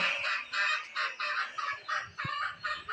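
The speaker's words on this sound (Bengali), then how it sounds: "আমার মার মুরগি" Chickens cluck close by in a rapid series of short, bright, repeated calls, fairly loud and without talk.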